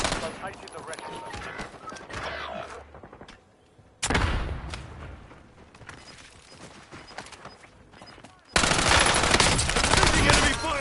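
Rapid automatic gunfire bursts in the shooter video game Warzone, loud and close, in dense clusters with a short lull, then a sustained heavy barrage at the end; game voice callouts sound alongside.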